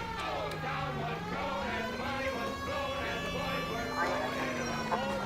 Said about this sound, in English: Come on, guys, I've got my sirens on.